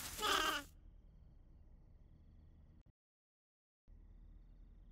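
A sheep in the pasture game Flock gives one short, loud bleat at the start, followed by quiet ambient hush with a brief dropout to silence.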